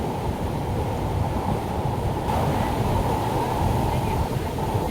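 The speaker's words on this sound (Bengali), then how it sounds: "পিছনে কখন ঢেউ আসছে কিছু বুঝতে পারছি না" Sea waves surging and breaking where the Gomti river meets the Arabian Sea at Dwarka, a steady loud roar of surf and wind across the whole stretch, with people talking over it.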